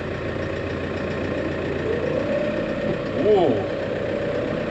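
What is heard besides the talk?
brand new tractor diesel engine running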